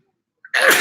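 A single sharp sneeze bursts out close and loud after a moment of near silence, with a faint short breath or intake just before it.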